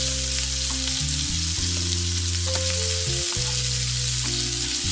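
Kebabs fry in hot oil, a steady dense sizzle close by, heard under loud background music, with no speech.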